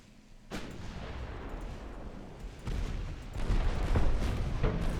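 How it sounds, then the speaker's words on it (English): Warship main and secondary guns fire in a naval battle game, a dense run of overlapping booms and rumbling blasts that grows heavier toward the end, with no talking. "Let's do as much damage as we can, though. Main guns, secondary guns."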